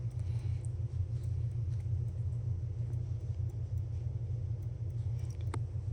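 A double pulse constant torque pulse motor runs off a capacitor bank with a steady, even low hum and rumble. Faint small ticks sit above the hum throughout, with no one speaking.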